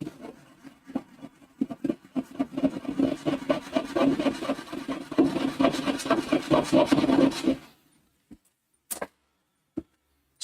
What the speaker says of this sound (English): so it even mutes the filing